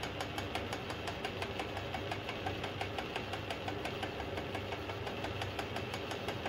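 Atlas lathe boring out a bushing with a light cleanup cut, a steady mechanical whir running throughout with a regular knocking pulse from the turning spindle and drive.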